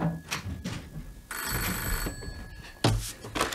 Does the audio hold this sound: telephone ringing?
yes